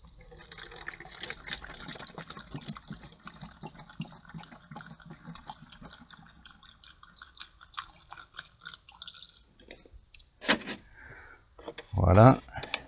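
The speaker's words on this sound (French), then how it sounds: "Je verse en essayant de pas m'en mettre partout" Liquid plant treatment for vegetable garden crops is poured with faint trickles and drips, mostly quiet, ending in a louder burst of handling noise.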